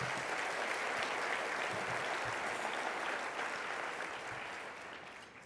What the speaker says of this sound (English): Please, another round of applause, Maria.